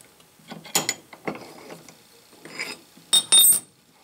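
A cast iron swivel vise jaw being swung by hand in a workshop, giving a few close metallic clicks, scrapes and ratchety clanks in short separate bursts.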